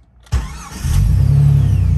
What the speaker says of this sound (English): And then just starting the Jeep.